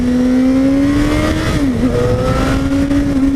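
A 2015 Suzuki GSX-S750 motorcycle engine pulls loud and close, its steady drone climbing in pitch with a brief dip midway before rising again.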